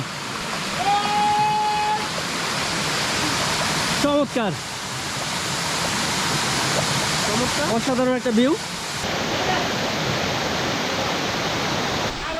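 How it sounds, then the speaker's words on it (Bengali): Chingri waterfall in Bandarban pours with a steady broadband rush that runs throughout, loud and continuous, while people talk over it and a few brief tonal sounds cut in. "এই যে চিংড়ি ঝর্ণা চলে আসলাম"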